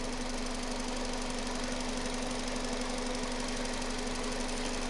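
Car engine running with the key on during an automotive lab test, a steady, unbroken mechanical drone with a faint knocking vibration, constant in level throughout.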